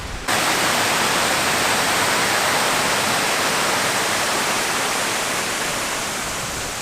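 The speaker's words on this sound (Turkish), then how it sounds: "Su sesi çok güzel." Stream water flowing at a picnic spot in Hendek, Sakarya, a loud, dense, unbroken rush that starts suddenly and holds steady close to the microphone, with no voices.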